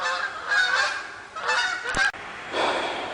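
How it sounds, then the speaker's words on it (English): Geese honk loudly and repeatedly close by at a bottle-digging dump site, with overlapping calls and a short gap before more honking. "Hey, shut up you gooses"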